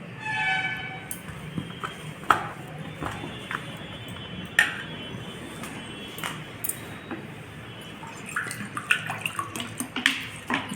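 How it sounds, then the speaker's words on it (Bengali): Water added little by little to flour for a vegetable roll batter, with soft pouring and trickling under repeated clinks and scrapes of a spoon against a bowl, close and moderately quiet, no talking. "একটু একটু জল দিয়ে ব্যাটার একটা ব্যাটার তৈরি করে নিচ্ছি"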